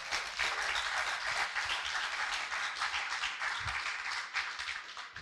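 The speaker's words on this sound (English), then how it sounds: "you should be clapping" An audience at a Lagos small-business bootcamp claps steadily for several seconds, a full, even wash of many hands with slight swells and no speech on top.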